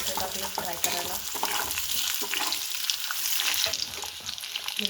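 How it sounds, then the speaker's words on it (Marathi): Potatoes dropped into hot oil with garlic and chili fry with a loud, steady sizzle, close and continuous, with the occasional stirring scrape underneath. "लसूण मिरची फ्राय करून आता त्याच्यात बटाटे टाकले फ्राय करायला"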